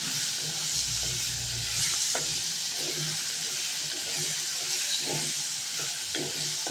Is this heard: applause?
no